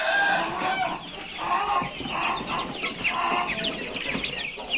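Several chickens cluck and murmur continuously, close together, with overlapping calls and no talking.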